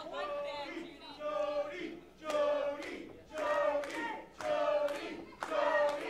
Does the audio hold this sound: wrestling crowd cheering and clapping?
yes